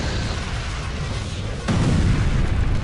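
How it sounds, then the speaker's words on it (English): Video game cutscene of a dragon bursting up from beneath a ship in icy seas with cold fire engulfing it: a steady roaring rumble that swells into a sudden heavy boom midway, then a louder sustained roar. "Like a shark, the beast erupted from below the vessel as claws, teeth, and cold fire engulfs the ship and its crew."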